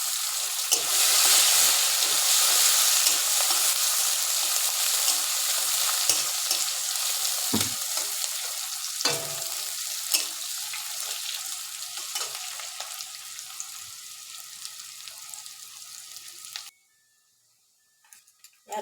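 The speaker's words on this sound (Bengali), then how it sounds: "একটু 2-3 সেকেন্ড নাড়াচাড়া করে ভাজা গন্ধ বেরিয়ে আসলে এবার পেঁয়াজটা দিয়ে দেবো" Cumin and bay leaf crackle in hot oil, then onion goes in. A loud, dense, close sizzle with occasional stirring scrapes slowly softens and stops abruptly near the end.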